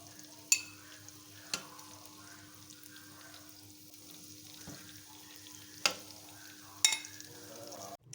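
Green chillies sizzle steadily as they fry in a pan and are stirred, with soft continuous crackle and a few sharp spoon-on-pan clinks at irregular intervals, close and fairly quiet.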